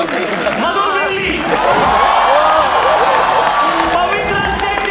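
Loud audience applause and cheering for team 2 at a comedy roast-style show, energetic clapping with shouts and whoops, mixed with voices.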